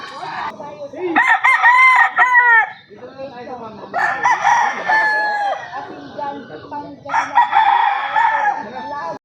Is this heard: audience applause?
no